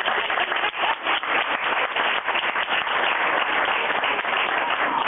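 Steady applause from a seminar audience, many hands clapping continuously at moderate volume with a muffled, band-limited tone.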